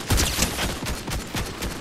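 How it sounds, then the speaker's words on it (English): Rapid automatic fire from a Ranger assault rifle in Fortnite Reload, a dense, loud run of shots repeating steadily for the whole moment without pause. "But I only have a ranger assault rifle."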